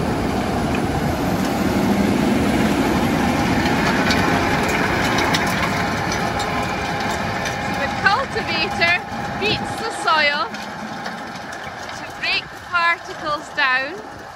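Heavy tractor engine rumbles steadily as it cultivates a lumpy, rough ploughed field to break the soil down fine, running continuously at close range before easing, with a voice talking over the latter part.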